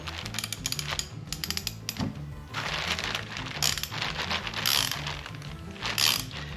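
Wrench clicks and metallic ratcheting as AN fittings are tightened on a Holley Hydramat, a close, busy run of short mechanical clicks and scrapes in bursts with brief pauses, no talking.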